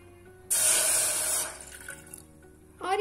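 Water pours into a pan on a lit gas stove, a cup's worth for jaggery tea: a loud, steady splashing gush for about a second that then tapers into a quieter trickle and settles.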